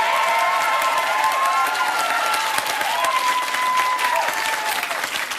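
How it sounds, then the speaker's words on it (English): A studio audience on the Millionaire Hot Seat quiz show applauds and cheers, loud, dense and unbroken throughout, with bright drifting tones layered over the clapping. "He's clapping his hands up there."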